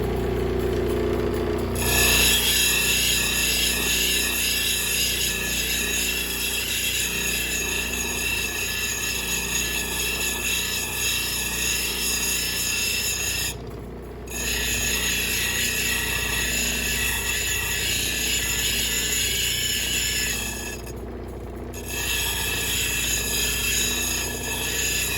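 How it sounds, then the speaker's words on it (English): A Yooperlite stone is pressed against a 220 grit grinding wheel, giving a steady, close whirring scrape that runs for the whole stretch, broken by two short pauses, with no speech. "We'll go ahead and we'll move on to the 220 grinding wheel and take the 80 grit scratches out."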